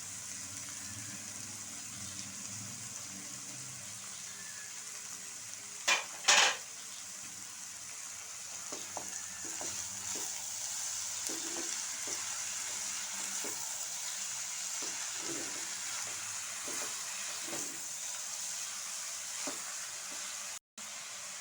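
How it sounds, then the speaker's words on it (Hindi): Cabbage and bell pepper stir-fried in a pan for Singaporean rice: a constant hissing sizzle with a couple of sharp clanks early on, then rhythmic tossing and scraping sounds, close and steady. "बंद गोभी डालेंगे, शिमला मिर्च डालेंगे"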